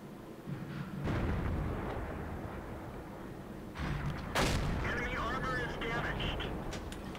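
Tank guns firing in World of Tanks, booming blasts with rumbling tails, one around the first second and a sharper, louder crack later, over continuous battle noise while someone talks.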